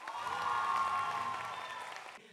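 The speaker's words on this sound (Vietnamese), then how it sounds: "hãy cổ vũ cho các đội bằng những tràng pháo tay thật nồng nhiệt" An audience applauds student teams at a televised Vietnamese contest, a dense, sustained round of clapping that fades slightly before cutting off near the end.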